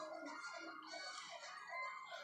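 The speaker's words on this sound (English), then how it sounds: "there's an alarm again" An electronic alarm warbles continuously in repeating rising and falling tones, steady and moderately loud, with no talking.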